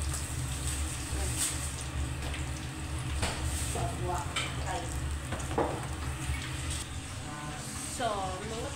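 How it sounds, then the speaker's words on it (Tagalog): Fish fries in a pan for sweet and sour fish, crackling and sizzling steadily up close with bursts of spattering oil, while a voice is faintly heard near the end. "habang magluluto pa tayo sa isda"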